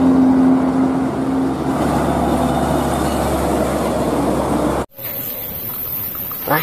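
A Pertamina fuel tanker truck passes by, its broad road rumble loud and steady for about five seconds before cutting off abruptly, followed by quieter traffic.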